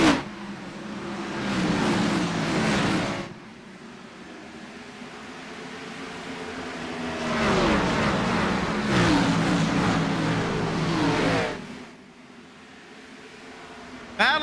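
Stock cars race at Bristol in iRacing, a pack of engines roaring and droning at steady high revs, swelling and fading as cars pass, with a race commentator talking over it.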